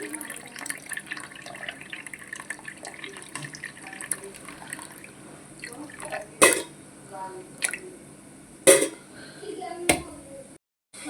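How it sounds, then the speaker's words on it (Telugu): Water drips and splashes as it is drained off soaked moong dal in a kitchen, with a few sharp louder pours and knocks standing out over faint background sounds. "ఇలా పప్పులో ఉన్న వాటర్ అంతా తీసేయడం వల్ల పప్పు తిన్నప్పుడు గ్యాస్ రాదండి"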